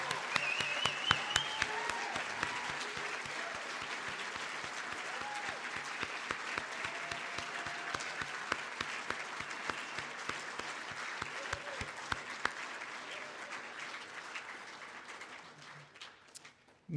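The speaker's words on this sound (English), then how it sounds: "let's offer one large round of applause to our rising ninth graders" A school audience gives long, sustained applause to graduating eighth graders at a baccalaureate ceremony, with individual claps standing out from the crowd and the sound thinning slightly before ending.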